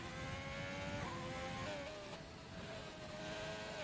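Race car engine in a racing video game on the Austria circuit, a steady high whining drone that rises and dips in pitch as it accelerates and shifts gears, heard at low level without talk.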